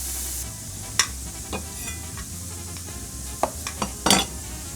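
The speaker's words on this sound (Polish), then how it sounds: "Ja chorizo startuję na patelni już rozgrzanej, ale nie za bardzo." Chorizo fries in a preheated pan with no added fat, giving a steady close sizzle broken by a few sharp clicks and scrapes of a utensil against the pan.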